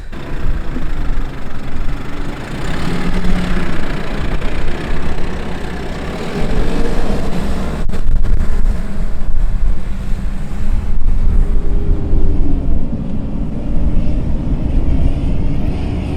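A 4x4 crawling out of soft beach sand in first gear, its engine a steady loud low drone with gusty wind rumble throughout, no talking.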